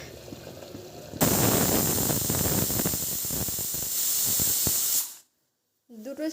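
A pressure cooker with fish cooking inside releases a loud sustained hiss of steam that ends abruptly into silence, followed briefly by a voice.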